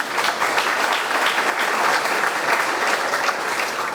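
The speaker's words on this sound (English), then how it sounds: "Yeah, you can clap for that." An audience at a high school hall of fame induction ceremony gives steady, sustained applause, a dense wash of many hands clapping at even loudness throughout with no voices.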